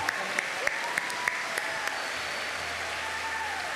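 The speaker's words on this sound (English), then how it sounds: "Pa'ipa ilima, let's give them a round of applause." Audience applauding hula dancers at a live Hawaiian event, a steady wash of clapping with a few sharper individual claps standing out, moderately distant and without speech.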